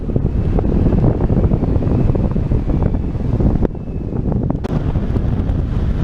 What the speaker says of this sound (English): it's getting a bit gnarly and windy